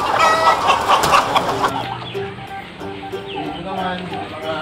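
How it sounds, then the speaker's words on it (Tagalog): Rhode Island Red rooster and hens cluck and call close by on a farm, a busy overlapping chorus of short squawks with a person talking over them. "Ito, Rhode Island Red rooster ko."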